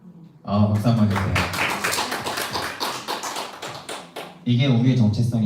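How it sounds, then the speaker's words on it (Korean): A middle-school church youth service audience claps together for several seconds, a dense close burst of hand claps set between stretches of someone speaking. "박수 한번 주세요."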